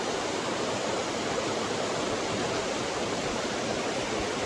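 A village river stream rushes steadily with a dense, unbroken hiss of flowing water, close and loud throughout with no other sounds.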